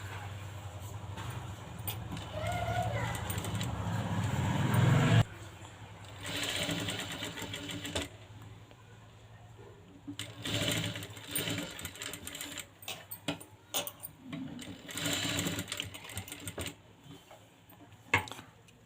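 A sewing machine stitching puff sleeves on a blouse, running in a steady close mechanical chatter that starts and stops in short runs, with quiet handling sounds between and little or no talk.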